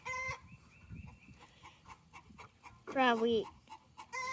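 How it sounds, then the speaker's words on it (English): Chickens cluck and squawk nearby, with one loud drawn-out cackle standing out, while a person briefly speaks over the farmyard noise. "The chickens were singing egg songs the whole time you were doing school"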